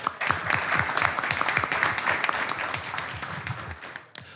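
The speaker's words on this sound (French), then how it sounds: "Je vous prie d'accueillir sous un tonnerre d'applaudissements Mademoiselle Louise Ngonyembe" A studio audience breaks into loud, dense clapping to welcome a young woman guest onto a French TV show stage, the applause sustained and close before dropping off abruptly near the end.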